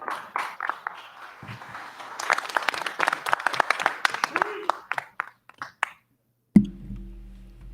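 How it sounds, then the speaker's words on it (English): A small group at a UFC post-fight press conference gives brief scattered clapping, sharp individual claps close by amid talking, trailing off before a final thud and hum. "Round of applause, well deserved for Dustin Poirier."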